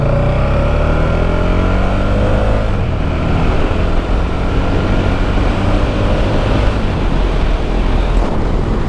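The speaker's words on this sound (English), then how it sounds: "it kind of sounds like there's more wind noise than there was before, with the wind actually like hitting me" Heavy, constant wind roar buffets a rider on a SuperDuke motorcycle fitted with a new windscreen at freeway speed, with a low engine drone underneath and no break in the noise.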